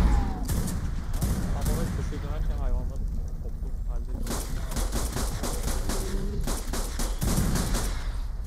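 Dense gunfire rattles in ARK Genesis as enemies shoot in rapid bursts and volleys, loud and close, with players talking over the shooting throughout.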